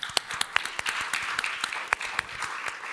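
A panel discussion audience on climate and health financing claps, with scattered distinct handclaps over a soft, brief wash of applause.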